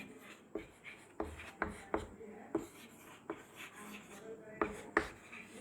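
Marker or chalk writing on a classroom board during a biology lecture, heard as a series of short scratchy strokes in uneven bursts, fairly close and moderately quiet, with faint room noise between strokes.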